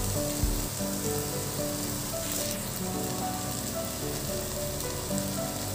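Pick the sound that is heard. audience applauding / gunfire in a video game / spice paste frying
spice paste frying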